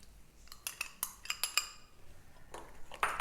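Yogurt going into a bowl for Afghani chicken, heard as a string of close clinks and scrapes of a spoon against the bowl, ending in a soft rustling scrape, with no talk.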